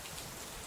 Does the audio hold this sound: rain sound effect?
yes